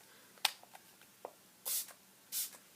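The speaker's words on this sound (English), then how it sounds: "I'm going to spray it with some Fix Plus" Two quick bursts of fine mist from a bottle of Fix Plus setting spray, close by, with small taps and clicks before them in an otherwise quiet room.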